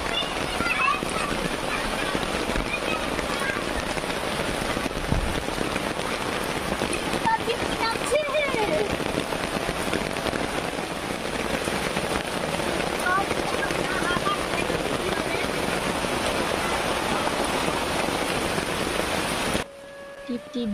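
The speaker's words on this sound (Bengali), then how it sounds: "টিপ টিপ বৃষ্টি হইতেছে আর আমি গোসল করতেছি।" Light drizzle falls steadily on surfaces outdoors while someone bathes in the rain, a continuous soft patter with faint wind, ending abruptly near the end.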